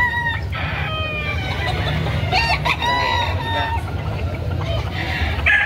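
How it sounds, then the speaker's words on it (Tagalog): A white-legged gamecock crows loudly and close, mixed with repeated clucking from nearby chickens over a low rumbling background, in Carbon, Cebu City. "Napakagwapong manok."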